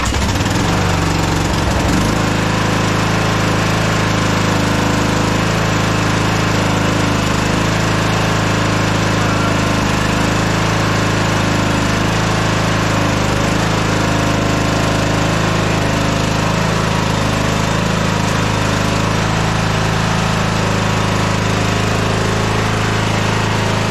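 The engine of a Scotts 15/42 lawn tractor under repair runs loud and steady close by, a constant droning hum that settles in after a brief rough start and holds for over twenty seconds with no talking.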